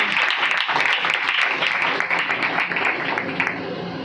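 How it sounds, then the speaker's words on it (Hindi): A church congregation in Karachi, Pakistan breaks into loud, continuous applause during a sermon, a dense clatter of many hands that tapers slightly near the end. "जोरदार तालियां खुदा के खादमों के लिए।"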